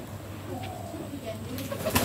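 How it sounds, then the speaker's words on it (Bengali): Pet pigeons coo softly in low, rolling calls, with a brief flutter of wings near the end, set against faint background noise. "এগুলো হচ্ছে আমাদের কবুতর, অনেক সুন্দর"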